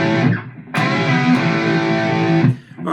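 Distorted electric guitar plays the bending opening lick of a song's intro, a short note then a sustained, saturated bend ringing for nearly two seconds before cutting off, loud and close with no talking.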